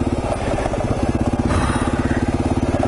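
A motorcycle engine chugs at low revs in a steady, close pulsing rhythm while the rider descends slowly down a rough, steep hill road with hairpin turns.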